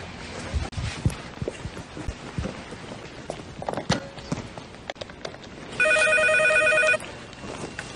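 A telephone at a net cafe gives one short burst of ringing near the end, clear and fairly close, after a stretch of quiet background noise.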